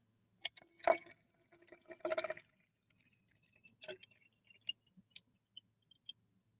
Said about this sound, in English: Let me know if you guys could hear the water.